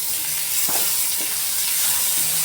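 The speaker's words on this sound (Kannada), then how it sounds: "ಹಿಂಗಾಗಿ ಮೊದಲೇ ಉಳ್ಳಾಗಡ್ಡಿ ಫ್ರೈ ಮಾಡ್ಕೊಂಡು ಆಮೇಲೆ ಟೊಮೆಟೊ ಹಾಕೀನಿ" Tomatoes and onions fry for a fish curry gravy, making a loud, continuous sizzle with a few scraping stirs of a spoon in the pan and no voices.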